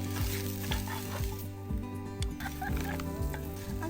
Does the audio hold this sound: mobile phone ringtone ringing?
no